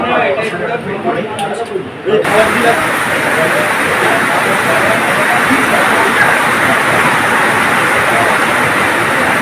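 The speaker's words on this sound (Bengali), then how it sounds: "অসম্ভব বৃষ্টি হচ্ছে, অসম্ভব" A heavy city downpour roars as a dense, steady wash of rain after a short burst of other noise at the start, loud and close, with a person speaking over it.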